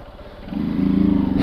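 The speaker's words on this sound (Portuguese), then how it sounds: "Motinha é boa demais," A small motorcycle engine rises from a low idle into a steady, louder drone that holds close by, with a brief cut at the very end.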